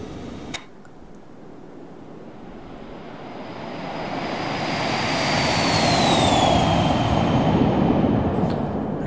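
Twin jet engines of a Phenom 300 business jet in the X-Plane 11 flight simulator, a steady loud roar with a rising whine that swells and holds as the aircraft climbs after liftoff, with no talk over it.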